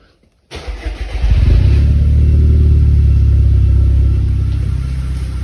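After a moment of quiet, a car engine cranks and catches, revs up loudly, then settles into a strong, steady idle nearby.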